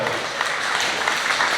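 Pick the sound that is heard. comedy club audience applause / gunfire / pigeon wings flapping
comedy club audience applause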